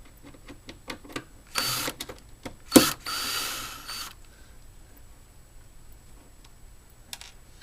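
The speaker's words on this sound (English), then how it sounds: "in the screw gun for a Phillips head screw. And I am going to take that wood block out, take those 2 screws" A screw gun with a 5/16 bit backs two Phillips head screws out of a wood block on a Lowrey organ rolltop, giving two close whirring bursts amid light ticks and clicks.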